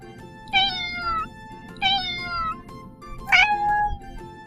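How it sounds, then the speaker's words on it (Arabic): A domestic cat meows three times in clear, separate calls, the last one shorter and higher, close and loud over a faint background with no talking. "قطة"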